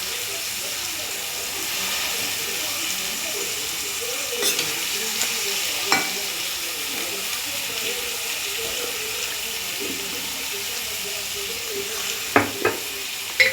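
Cluster beans being stir-fried in a pan, with a steady frying sizzle and hiss that runs throughout and occasional scraping clicks from stirring, fairly quiet and with no voice over it.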